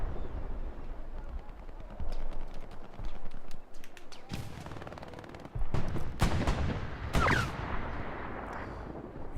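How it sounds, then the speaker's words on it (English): Rocket artillery launching in Hell Let Loose on Omaha Beach, with a few sharp heavy blasts and whooshing launches spaced apart over a rumbling battlefield background. "These rockets from the top of the beach to the bottom are really something to look at"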